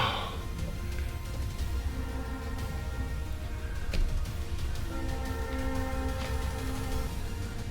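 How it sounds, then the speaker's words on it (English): A train passes nearby with a steady broadband rumble and clatter, and faint tonal horn-like lines rise in the middle of the pass. "I have to wait for this train to pass"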